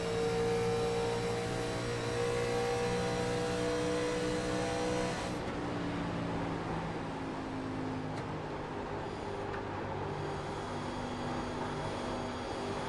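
A NASCAR Winston Cup stock car at Michigan heard from the in-car camera, its engine roaring steadily at high revs with dense harmonic drone and wind noise throughout, loud and close, without talk.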